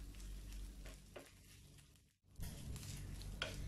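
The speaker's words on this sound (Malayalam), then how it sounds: "ഇനി ഇത് നല്ലപോലെ ഒന്ന് വറുത്തെടുക്കുക. നല്ലൊരു ബ്രൗൺ കളർ ആവണ വരെ വറുത്തെടുക്കുക." Grated coconut dry-roasts in a pan on a low flame for spinach erissery, giving a faint, soft crackle with intermittent scraping stirs and a brief pause midway.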